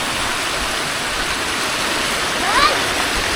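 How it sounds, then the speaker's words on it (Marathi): Steady broadband rush of a waterfall on a hill during the monsoon, constant and close throughout, with a brief bird-like chirp near the end. "धबधबा आहे."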